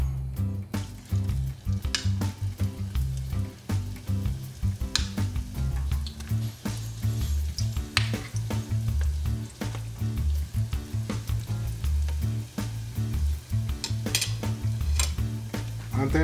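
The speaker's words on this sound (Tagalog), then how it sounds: "mainit na po ang ating mantika. At isa-isa po natin ilalagay po ang ating lumpia." Filipino lumpia spring rolls fry in hot oil, laid in one at a time, with steady crackling, bubbling sizzle and scattered sharp utensil clicks over a low background drone.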